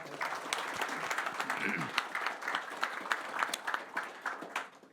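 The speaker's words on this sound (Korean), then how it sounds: "우리 총리님한테 박수 한번 쳐주시죠" An audience applauds the prime minister at a Korean government event. A steady, fairly faint wash of clapping runs for about five seconds at an even level, with no talk over it.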